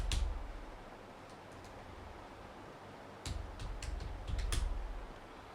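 Quiet computer-keyboard typing, with a few sharp key taps near the start and then a short cluster of clicks later, close by and faint over a soft background hiss.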